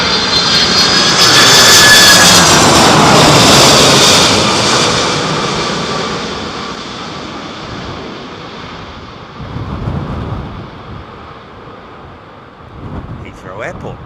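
A Boeing 767-400 jet landing in strong wind at Heathrow Airport, its loud engine roar rising and then fading away into gusty wind buffeting the microphone, with talk heard over it.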